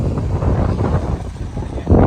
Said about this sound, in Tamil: பயங்கரமாக காற்றடிக்குது.